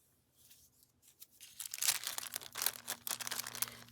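Scissors snip through paper while crafting an autumn journal, giving a few crisp, close cuts and crinkling rustles over a low background hum.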